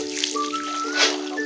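Water is poured into a cooking pot while a sautéed dish is being prepared. The pour is brief and soft, close by.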